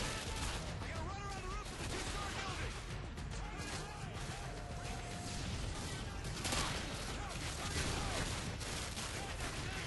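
Dense gunfire in Call of Duty: Modern Warfare 2, overlapping rapid shots and impacts throughout, loud and chaotic with battlefield clutter, no clear talk.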